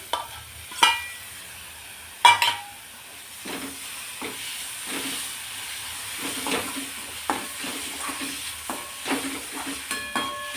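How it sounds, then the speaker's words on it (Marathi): Chopped capsicum hits a pan of sautéed ginger and garlic, giving a steady close sizzle with a few sharp spatula clinks and scraping stirs throughout, no voices. "आता अद्रक लसूण परतलंय, यामध्ये आपण शिमला मिरची टाकू, जी की बारीक करून घेतलेली आहे आपण।"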